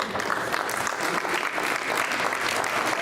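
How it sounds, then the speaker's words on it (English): Loud, dense applause from a dinner crowd honoring volunteers, a continuous wash of clapping with no break. "Give them a big round of applause."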